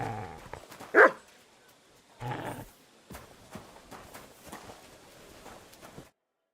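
A dog barks in the video game Kingdom Come: Deliverance II: one sharp, loud bark, then a second burst and a few fainter, scattered barks with faint hoof-like clopping in the background.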